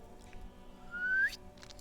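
A single thin, breathy whistle rising in pitch for about half a second, an attempted whistle in the video game Disco Elysium, faint over a low steady background hum.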